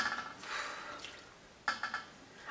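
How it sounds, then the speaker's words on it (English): Onion skin dye liquid is scooped into a colander, giving a few quiet splashes and trickles, with a louder pour near the end. "I'm going to just scoop some of this out into the colander, just so it doesn't fall out and splash everywhere"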